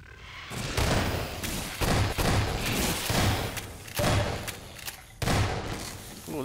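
Repeated heavy gunshots from a weapon in Half-Life 2 Episode 2, booming thuds spaced about a second apart over a continuous noisy game background.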